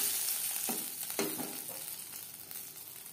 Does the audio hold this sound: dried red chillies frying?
yes